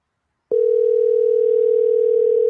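A phone call rings out as one loud, steady electronic tone. It starts after half a second of silence and holds unbroken for about two seconds.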